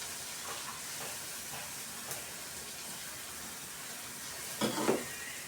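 Onions sautéing with ground chili and coriander for a Kerala fish curry give off a steady low sizzle and hiss in a hot pan, faint and continuous, with a brief louder stir near the end.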